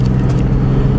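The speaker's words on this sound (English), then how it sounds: "yay. Traffic." Road traffic rumbles past a large SUV, a loud, low continuous roar of car noise with no speech.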